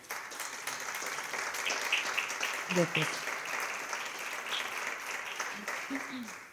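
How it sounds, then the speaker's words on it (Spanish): Audience at a feminism forum applauds to welcome a speaker, a steady broadband clapping that fills the room and holds evenly for several seconds, with a brief voice or two rising faintly beneath it. "vamos a recibirle, por favor, a, Marika con un fortísimo aplauso"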